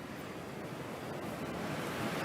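Strong wind blowing steadily across the open sand of the Dune du Pilat, a broad, continuous roar that stays close and loud throughout with no voices.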